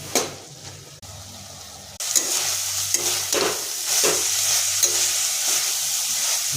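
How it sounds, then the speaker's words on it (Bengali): Freshwater snails sizzle in a hot pan while a utensil scrapes and stirs them in repeated strokes, close up, with no talking. "গোগলি ভাজা হয়ে গেছে"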